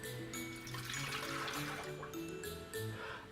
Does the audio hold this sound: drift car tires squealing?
no